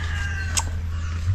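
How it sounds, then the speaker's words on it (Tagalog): A hen gives a single short cluck over a steady low hum, brief and moderately close, in a backyard coop of laying hens. "Dalawang inahin."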